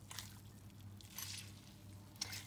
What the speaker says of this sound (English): before that you have to squeeze it out of its water